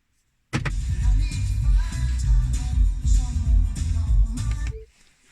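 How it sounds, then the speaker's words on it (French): The glove box of a Tesla opens by voice command, heard from inside the car as a steady mechanical whir. It runs for about four seconds, then stops with a faint click. "Ouvrir la boîte à gants."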